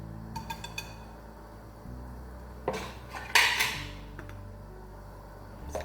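Tunisian molokhia stirred into a cooking pot of boiling water with bay leaves; a ladle clinks and scrapes against the pot in scattered knocks, with one louder clatter midway and no talking.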